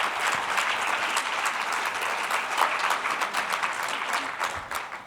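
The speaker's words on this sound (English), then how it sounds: "Give yourself a round of applause." Conference audience of educators gives a round of applause, many hands clapping in a dense, steady wash that swells slightly in the middle and eases toward the end.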